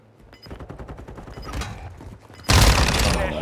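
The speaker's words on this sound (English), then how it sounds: "It's a rider shooting." Video game gunfire crackles in rapid repeated shots, growing denser and then erupting into a loud, sustained barrage near the end.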